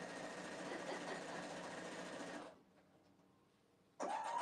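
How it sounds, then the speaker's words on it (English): A sewing machine runs in a steady, dense mechanical whir for about two and a half seconds, goes quiet, then starts up again near the end; no one speaks. "We now join Dana at the sewing machine"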